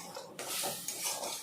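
Spices and fried vegetables stirred in a kadai while making a thin magur fish curry: scraping ladle strokes and metallic clinks against the pan over a faint sizzle, close and fairly quiet, no talking.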